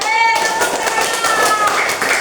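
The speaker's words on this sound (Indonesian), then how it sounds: "Tepuk tangan." A group of children clap their hands together in a classroom, with steady, dense slaps running throughout and young voices ringing over the clapping.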